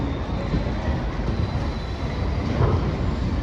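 The Swaraj Express, train 12471, pulling out of Kota Junction, a steady close rumble of rolling wheels and carriages with a faint high whine, continuous and fairly loud.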